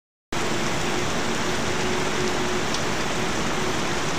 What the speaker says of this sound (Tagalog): Wala nang tigil ang ulan.